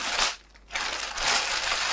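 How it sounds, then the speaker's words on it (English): An oversized plastic bag taped closed around a McIntosh C2700 vacuum tube preamplifier is handled and opened, giving loud, close crinkling and crushing rustles with a short quieter dip in the middle. "The bag, it's an oversized plastic bag,"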